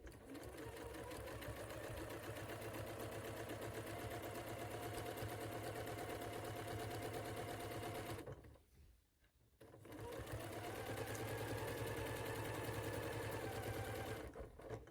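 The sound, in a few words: sewing machine stitching a quilt seam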